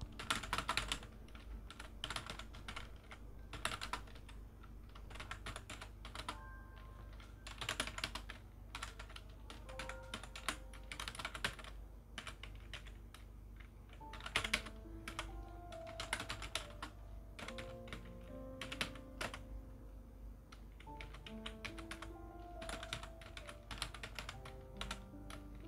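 Steady typing of basic GTK programming code on a computer keyboard, dense rapid keystrokes running continuously with a faint tonal background and no talking.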